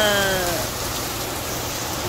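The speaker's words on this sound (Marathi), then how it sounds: "पाऊस तर आणखीन वाढला" Heavy rain pours steadily in a dense, loud hiss, with a faint voice trailing off at the very start.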